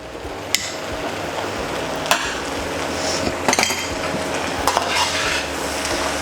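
Food fries in a pan, oiled with sesame seed oil and stirred continuously: a steady sizzle runs throughout, punctuated by a few sharp scrapes and clacks of the utensil against the pan.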